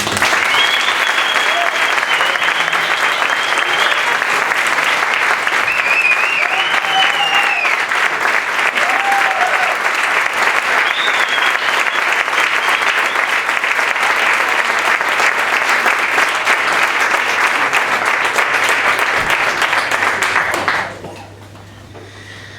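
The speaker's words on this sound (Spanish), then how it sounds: "Un aplauso para ellos." Dense, sustained applause from a big band concert audience at Garufa Club in A Coruña, loud and steady for about twenty seconds before cutting off abruptly into near silence.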